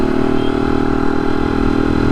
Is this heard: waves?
no